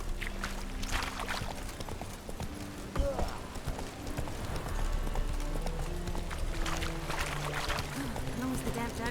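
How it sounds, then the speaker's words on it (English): A horse's hooves clop in a steady rhythm in the game The Witcher 3, mixed with watery splashing and ambient game sound while a voice speaks over it. "Whoa there, Roach."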